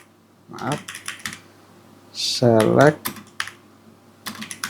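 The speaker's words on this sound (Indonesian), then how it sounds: "sekarang kita ketikkan select" Someone types an SQL query for a MySQL database on a computer keyboard, making bursts of close, crisp key clicks, with a short stretch of talking in the middle.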